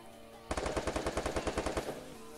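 A short burst of rapid automatic gunfire in the video game Garena Free Fire comes from a fight below a house, about fifteen evenly spaced shots in under two seconds, loud and alone.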